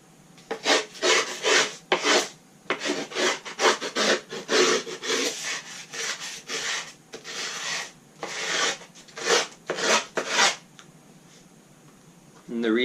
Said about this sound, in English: you're going to take a screwdriver and just scrape the sides of your board